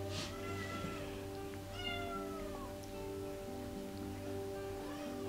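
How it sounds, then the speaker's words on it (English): Hungry kittens meow repeatedly for food outdoors on a sunny day, several thin cries rising over a steady background hum with no talking. "Where the kittens crying for more food."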